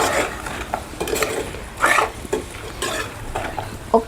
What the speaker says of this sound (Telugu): ఆనియన్స్ అయితే ఫ్రై అయిపోయినాయి